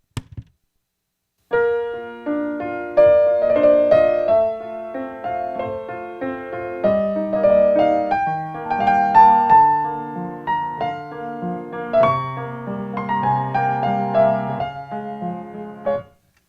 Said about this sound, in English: we call that type of bass line an Alberti bass line